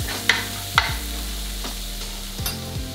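Onions hit a hot pan for creamy garlic butter chicken, a steady close sizzle with a few sharp clanks of a utensil stirring against the pan.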